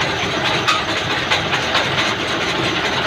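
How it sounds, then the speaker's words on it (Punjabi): A 20 horsepower electric motor drives a rice refinery machine, giving a steady, loud mechanical roar and hum with a continuous grinding rattle throughout, no voices over it. "20 ਹਾਰਸ ਪਾਵਰ ਦੀ ਮੋਟਰ ਜਿਹੜੀ ਇਸ ਸਿੱਕੀ ਰਿਫਾਈਨਰੀ ਨੂੰ ਚਲਾ ਰਹੀ ਹੈ"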